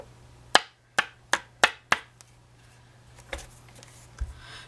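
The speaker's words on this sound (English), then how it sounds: "I'm going to try flicking it one more time." A card is flicked to knock loose embossing powder, giving five sharp, close snaps in quick succession, followed by a couple of softer taps in a quiet room.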